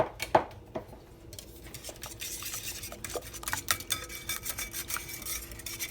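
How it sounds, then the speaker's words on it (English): Custard ingredients are mixed in a bowl with a rapid run of close scraping, tapping strokes that follow an early clatter, the stirring growing busier and steadier toward the end. "Now you're going to want to give that a good mix."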